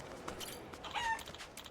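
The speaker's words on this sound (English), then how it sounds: "Hold on, there's a chicken." A chicken in Like a Dragon: Infinite Wealth gives a short, faint cluck or squawk partway through, set against quiet ambient game background.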